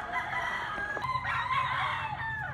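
A rooster crows with a long, strained call close by, backed by clucking fowl and steady farmyard background noise.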